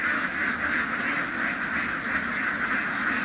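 A dense flock of ducks being moved from a truck into a duck pen gives a continuous loud chorus of overlapping quacks, close and unbroken.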